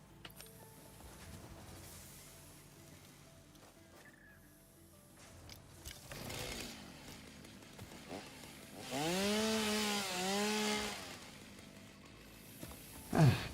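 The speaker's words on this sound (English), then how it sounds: "do I have a chainsaw?" A chainsaw in the Satisfactory video game whines and revs with rising and falling pitch sweeps, growing louder midway through, faint and without any talk.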